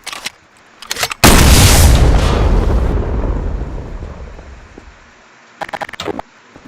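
RPG rocket explosion in a video game: after a few small pops, one loud close boom hits and rumbles away over several seconds, followed by a short burst of crackling shots.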